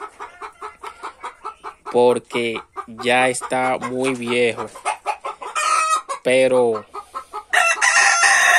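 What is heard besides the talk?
rooster crowing and clucking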